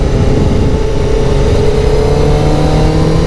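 A Kawasaki ZZR600 motorcycle engine pulls steadily under load while riding, a loud continuous drone with a slowly shifting pitch and no other voices.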